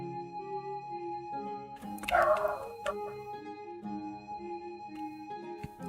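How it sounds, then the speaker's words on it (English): Dogs bark in the Tibia video game, a brief cluster of barks near the middle over steady, tonal in-game background sound. "let's listen to the dogs barking and think for a while."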